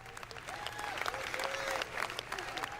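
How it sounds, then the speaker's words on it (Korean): Democratic members of the House of Representatives stand and applaud in the chamber during the speaker election, a dense sustained patter of many hands with faint crowd murmur and a voice talking over it. "다른 민주당 의원들은 전부 일어서서 박수를 치고 있습니다"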